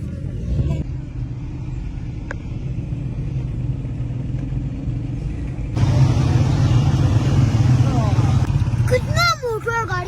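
Many cars and motorbikes of a rally crowd the road, engines rumbling continuously and swelling louder partway through, with voices and someone talking over the traffic noise.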